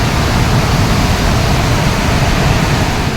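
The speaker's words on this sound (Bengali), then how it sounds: "এটা হচ্ছে গেটের জল, এদিক দিয়ে গেটের জলটা আসে" Water from the opened gate of the Dumbur dam in Tripura rushes in a loud, steady roar during flooding. The broadband wash is close and continuous with no break.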